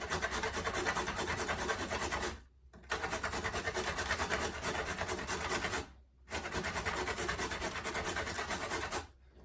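A fresh carrot is grated by hand in a kitchen, giving three long runs of steady rasping strokes split by short pauses. The scraping is close and loud, with no talking.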